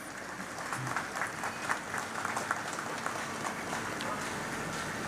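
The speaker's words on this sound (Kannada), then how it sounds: "ಎಲ್ಲರೂ ಸಹ ಚಪ್ಪಾಳೆ ತಟ್ಟುವ ಮೂಲಕ ನಮ್ಮ ಗೌರವವನ್ನು ಸಲ್ಲಿಸೋಣ." An audience at a welcome ceremony claps in steady, dense applause that carries through the whole stretch at moderate volume, with no single voice standing out.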